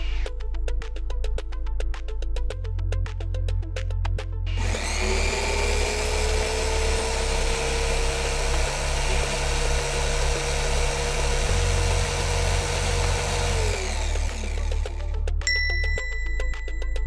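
A vibration test machine shakes a bolted joint secured with a nylon insert nut, a loud steady mechanical drone with rattling buzz lasting about nine seconds, starting and stopping abruptly, with quieter ticking machinery before and after.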